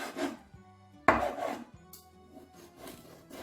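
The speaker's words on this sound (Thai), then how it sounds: "ก็หั่นไปเรื่อยๆนะคะ อย่างนี้จนเสร็จนะคะ" A knife cuts pork on a cutting board in a home kitchen while pieces are prepared for skewers, giving a few soft, irregular close knocks and scrapes with quiet gaps between them.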